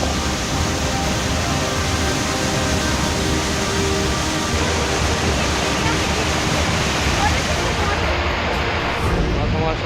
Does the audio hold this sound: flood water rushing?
yes